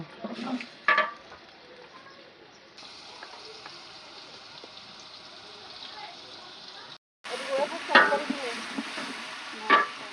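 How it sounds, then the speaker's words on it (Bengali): Whole spices (bay leaf, cinnamon, cloves and cardamom) stirred with chopped onion in a pan while cooking chicken biryani: steady scraping and light sizzling, with a few louder clinks of the utensil near the start and end. "এবার দিয়ে দিলাম তেজপাতা, দারচিনি, লবঙ্গ, এলাচ। এবার একটু নাড়াচাড়া।"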